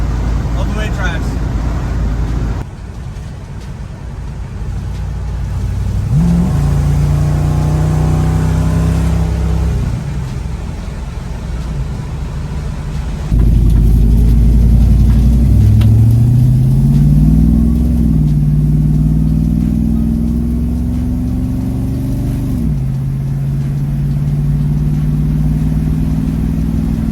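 A 1966 Ford Mustang with a swapped 302 V8 and AOD automatic transmission cruises at low revs, a steady engine drone under road noise that rises and shifts with gear changes, while someone talks over it.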